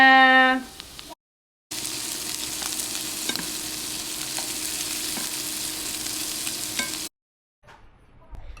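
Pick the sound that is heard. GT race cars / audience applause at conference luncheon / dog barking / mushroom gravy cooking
mushroom gravy cooking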